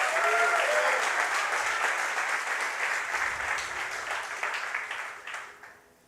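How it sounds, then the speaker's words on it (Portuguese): A church congregation at a family worship service claps loudly and steadily, a thick wash of applause that stays strong before tapering off and dying away in the final second. "aplauda bem forte o nome do Senhor"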